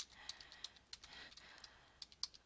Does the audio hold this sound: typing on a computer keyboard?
yes